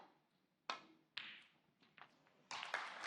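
Snooker balls at a professional Welsh Open match clicking sharply together and tapping into a pocket, several distinct crisp knocks spread over a few seconds in a quiet arena.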